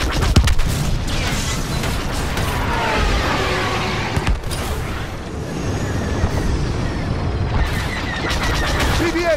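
Starfighter blaster fire from Star Wars Battlefront II keeps up in dense, rapid volleys with booming explosions and engine whooshes, loud and sustained throughout.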